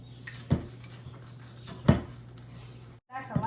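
Chocolate chips being stirred into thick brownie dough in a bowl, with two sharp clinks of spoon against bowl about a second and a half apart over a low kitchen hum, plus a brief voice near the end.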